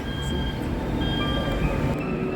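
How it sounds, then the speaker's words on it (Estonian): Steady rumble of a Taipei metro train in motion, heard from inside a carriage, with continuous low wheel and track noise and faint high whining tones throughout. "väikene paarikümneminutiline metroosõit Taipei kesklinna"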